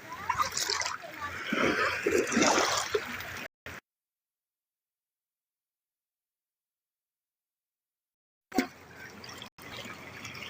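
Water splashes and trickles during outdoor foot washing, with children and adults talking over it; the sound cuts out to silence midway, then resumes briefly near the end.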